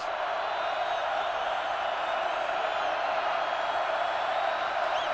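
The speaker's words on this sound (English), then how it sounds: "Crowd trying to get the defense into this" Crowd noise at a 2004 college football game between Oklahoma and Oregon, a dense, sustained roar from a packed stadium with no breaks in it.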